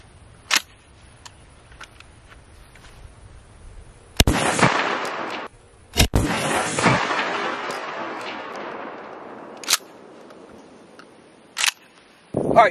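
Shotgun blasts firing PDX1 Defender rounds at 10 yards on a range, a few loud sharp reports with long rumbling decays, separated by quieter gaps and a couple of clicks.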